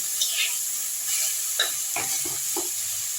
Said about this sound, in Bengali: দেখো ফুলটাকেও আমি ভেজে নিলাম সবজি আর সর্ষে বাটার সঙ্গে।